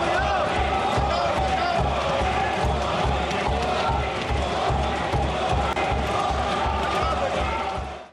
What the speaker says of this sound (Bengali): লোকসভায় মোদির নামে স্লোগান দিলেন বিজেপি সাংসদরা